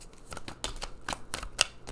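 Oracle cards are shuffled by hand in quick, crisp riffling bursts and soft slides, close and clear with no talking.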